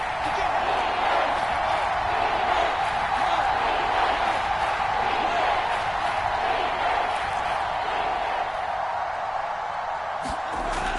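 At a Seahawks football game, a stadium crowd roars as one steady, loud wash of noise with scattered cheers and whoops, holding constant for about eleven seconds.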